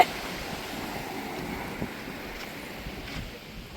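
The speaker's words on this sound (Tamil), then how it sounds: "அப்படி ஒரு காற்று வருதுங்க சில்லு சில்லுன்னு" A chilly sea breeze blows steadily across a beach, heard as a continuous broadband wind rush with faint surf underneath, even and unbroken throughout with no voices.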